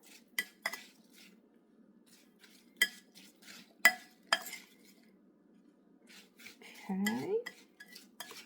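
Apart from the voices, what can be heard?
stirring apples with crisp mixture in a bowl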